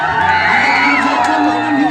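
A loud crowd at a live village stage program, shouting and whooping together in a dense, continuous roar at close range.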